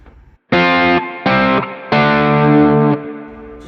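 Lightly overdriven electric guitar plays three sustained chords with short gaps between them, the last ringing longest before fading into a soft tail.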